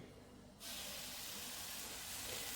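Pulse batter of soaked green gram poured onto a moderately heated iron tawa, breaking into a sudden steady sizzling hiss that holds evenly for a couple of seconds, close but soft.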